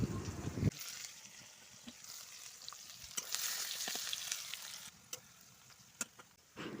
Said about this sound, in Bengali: এখন আমি দিয়ে দিচ্ছি পেঁয়াজ। তো পেঁয়াজটাকে এবার ভেজে নেব।